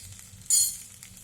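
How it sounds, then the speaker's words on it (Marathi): Masala spices with a pinch of turmeric sauté in a pan for egg curry, giving a brief, soft sizzle that flares up for a moment and fades over a quiet background. "म्हणजे मसाला जवळपास परतत आलेला आहे"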